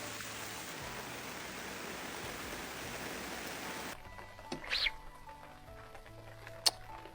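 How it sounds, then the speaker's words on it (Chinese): Rain patters down at a riverside at night during a fishing outing, a steady broadband hiss that cuts off abruptly partway through, leaving quieter ambience with a few faint clicks and knocks. "现在就下雨了。"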